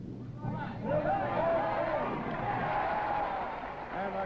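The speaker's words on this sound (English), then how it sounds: "the crowd has come alive as John Guenther has 8 strikes in a row" A bowling crowd at a 1969 professional bowling tournament in San Jose cheering a strike, a swelling roar of voices and shouts that holds for several seconds.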